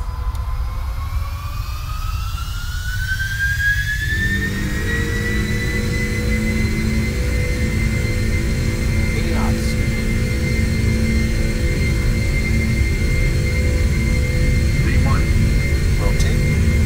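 Four jet engines of a PMDG 747-400 in the Prepar3D flight simulator spool up to takeoff power on the runway, a loud steady roar with a rising whine that climbs and then holds; a voice speaks over it.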